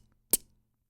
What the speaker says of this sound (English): The notes with the letter T over them have a kind of stuck sound.